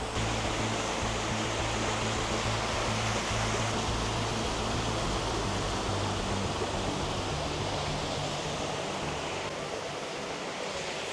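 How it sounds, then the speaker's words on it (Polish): A steady, full roar of a waterfall in Switzerland rushes on without pause, close and loud, with no voices. "a my podejdziemy tu pod wodospad."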